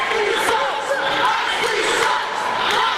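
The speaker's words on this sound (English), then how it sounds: "a unanimous Moxley sucks chant" Wrestling crowd at an IPW independent show chanting in unison against a wrestler, a dense, continuous roar of many voices filling the arena at steady loudness throughout.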